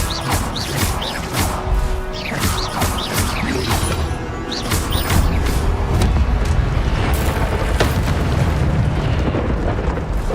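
The Incendio fire spell in the Hogwarts Legacy video game erupts in a loud, continuous fiery roar with bursting crackles and booming impacts, mixed with game music and effects.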